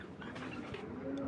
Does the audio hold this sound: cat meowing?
no